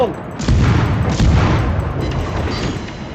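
A gun mounted on a boat fires in a video game, producing heavy, booming shots that run almost continuously and close, with a louder blast near the start.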